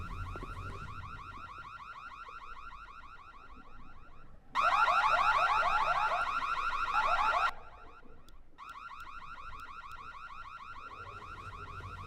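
A car alarm blares in the video game Secret World Legends, its rapid, looping electronic warble holding steady, swelling to a much louder burst midway, then dropping back to the steady cycle.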